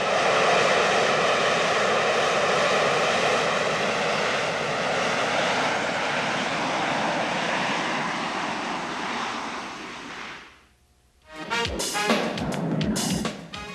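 Harrier vertical takeoff jet's engine roars loud and steady for about ten seconds, then cuts to a brief lull before harsher, rougher engine bursts return near the end.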